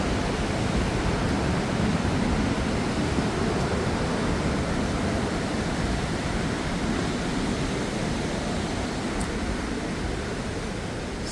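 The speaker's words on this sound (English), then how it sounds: "listen to the rushing water" Rushing water of a waterfall at DeSoto State Park, a broad, steady roar that stays constant and full throughout without a break.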